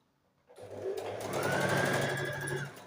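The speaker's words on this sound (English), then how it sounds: "And simply stitch it to the side panel, and then we're going to trim it" A sewing machine stitches black 1.5-inch sashing onto the side panel of a stained-glass appliqué quilt, starting abruptly and running as a close, steady whir for a couple of seconds.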